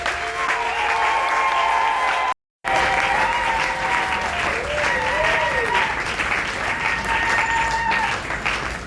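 Dense, loud clapping from a large church congregation at a Sunday service, sustained with a brief break, mixed with cheering and shouted voices.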